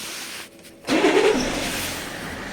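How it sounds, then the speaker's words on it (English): A BMW 5 Series engine cranks and catches after a short quiet pause, then settles into a steady, fairly loud idle close by. "we're just going to put our foot on the brake and see if it starts."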